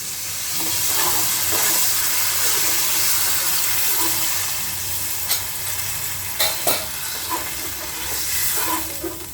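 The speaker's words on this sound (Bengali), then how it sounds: "এবার জল দিয়ে দেব এবার জল দিয়ে নিচ্ছি" Water hits frying fish curry masala for tel koi in a hot pan, raising a loud, steady hiss and sizzle that later thins, broken by a few sharp clinks of a utensil.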